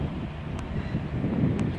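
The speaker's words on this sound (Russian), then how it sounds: "Вот тут ветрено." Low, rumbling gusts of wind buffeting the microphone, steady and close, with a couple of faint brief clicks.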